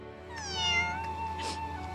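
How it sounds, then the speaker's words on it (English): A single drawn-out cat meow, close and clear, rising and then bending downward over a low steady hum. "A cat stuck in a tree? Oh, it looks scared."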